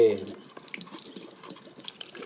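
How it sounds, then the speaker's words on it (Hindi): Fresh water for chicks pours and splashes steadily as a container is rinsed, a close trickling wash with a voice briefly at the start. "इधर से पानी अच्छे तरीके से धो के, फ्रेश वाटर"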